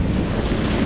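Wind at sea on the way out to open water on a boat, a steady broadband rush and buffeting on the microphone with low rumble, continuous and close, no voices.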